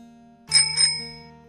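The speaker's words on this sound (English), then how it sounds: "Bicycle." A bicycle bell rings twice in quick succession, bright and clear, over a quiet steady hum, in a children's lesson on vehicles.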